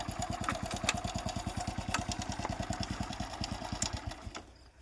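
A motorbike engine runs close by with a fast, even put-put idle pulse, steady and fairly loud, fading and dropping away near the end with faint outdoor ambience.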